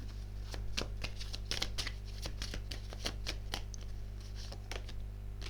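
Tarot cards are shuffled and drawn during a reading: a quick series of crisp, close riffling snaps and card flicks over a low steady hum.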